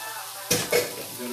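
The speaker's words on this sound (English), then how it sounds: "I'm going to go ahead and saute these onions down a little bit in here." Onions for a meatloaf hit a hot pan with a sudden close sizzle that flares twice and then settles into a soft, steady frying hiss.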